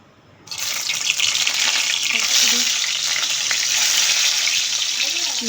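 A hot karahi bursts into loud, steady sizzling after a brief quiet start as food hits the oil, the frying hiss continuing evenly and close up with no talk.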